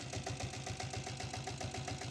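A steady, rapid thumping engine idle from a 7.5 HP self-start diesel Royal Enfield Bullet motorcycle, rhythmic and even, heard close up with no voices.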